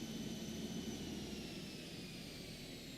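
Aerobask Epic E1000 turboprop in a flight simulator winding down after cutoff, a whining jet-like tone sliding slowly lower as the broadband roar fades gently over a few seconds.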